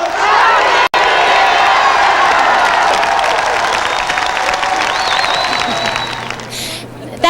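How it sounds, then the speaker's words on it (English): A large crowd cheers, whoops and claps loudly and continuously at a New Year's 2000 celebration, a dense roar with a brief cut near the start and a slight fade toward the end. "Let's hear a big rounding cheer when he's here."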